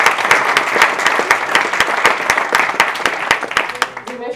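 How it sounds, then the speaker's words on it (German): An audience at a talk event applauds with steady, dense clapping that carries on at a fairly even level and then trails off at the end. "Applaus."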